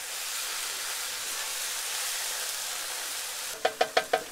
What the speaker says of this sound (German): So, da kommt das marinierte Fleisch. Das tun wir da jetzt mit dazu. Mitsamt der Marinade.